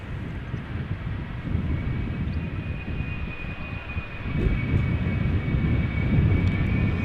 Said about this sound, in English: this is a Boeing 773, Boeing 777-300ER